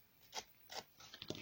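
Scissors scrape along the edge of a paper card to distress it for a shabby-style card, with three faint, short rasping strokes close by in a quiet room.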